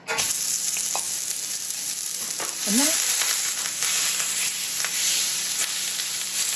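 Ground beef sizzles and crackles steadily in a hot pan, with a brief scrape of a utensil partway through and no talking.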